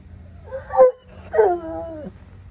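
A dog gives two high, wavering whimpers, the second drawn out into a yipping, howl-like whine. Both are close and fairly clear over a low background hum, with no talking.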